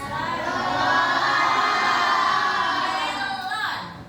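Primary school class of children cheering and shouting together after a fruit guessing game, a loud sustained burst of young voices that fades near the end.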